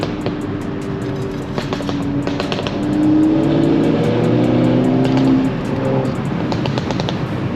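A tuned MK6 Volkswagen GTI revs loudly nearby, the engine note rising and falling with sharp exhaust pops and crackles breaking through, no talking.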